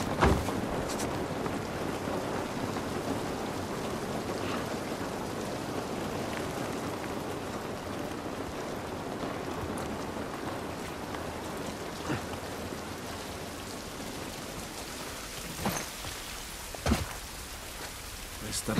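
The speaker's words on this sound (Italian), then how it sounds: "Pioggia non va bene." Steady rain falls in The Last of Us Part I, a constant dense hiss with occasional louder drips and splashes toward the end, heard without talk.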